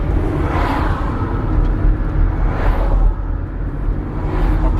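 A 1983 Mercedes 380SL drives off, heard from inside as a steady low engine rumble and road noise that swells and eases in slow waves, no talk.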